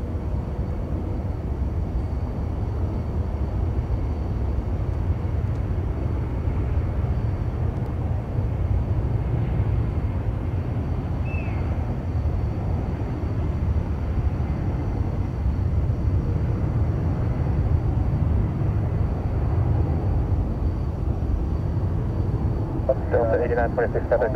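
Southwest Airlines airliner passing at San Francisco International Airport, a steady broadband jet roar that holds loud and even throughout, with a faint voice briefly underneath.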